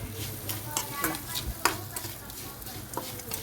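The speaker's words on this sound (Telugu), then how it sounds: "వేయించిన ధనియా పౌడర్, చిన్నుల్లిపాయ, ఇదంతా కలుపుకోవాలి." Roasted coriander powder and small shallots being stirred in a hot pan, with soft sizzling under repeated scraping strokes and a few sharper clinks of the spoon against the metal.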